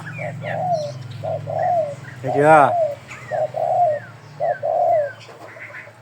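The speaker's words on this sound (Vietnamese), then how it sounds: "con này đẹp lắm cả con chim đây này" Pigeons or doves in a bird-breeding enclosure cooing in repeated short calls, with a sharp chirp partway through, while someone talks close by over them.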